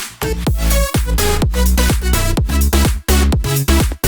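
A Future Bounce electronic drop with reverb automation pounds out loud, punchy kicks with pitch-sweeping bass hits and bright synth chords in a tight repeating rhythm, dense and continuous.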